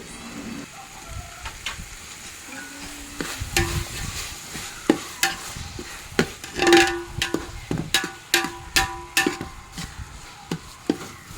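Ginger garlic paste and green chillies sautéing in a pan for chicken dum biriyani, a steady sizzle broken by repeated clinks and scrapes of a stirring spoon against the pan, close and fairly loud.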